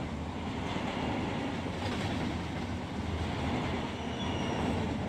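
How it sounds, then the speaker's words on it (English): A freight train in the Run 8 train simulator game rolls steadily along the rails, a continuous rumbling drone with faint clickety-clack that holds constant throughout with no talk. "Here's one of my trains."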